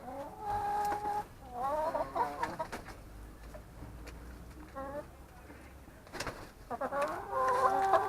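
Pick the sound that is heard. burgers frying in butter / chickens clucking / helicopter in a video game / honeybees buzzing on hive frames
chickens clucking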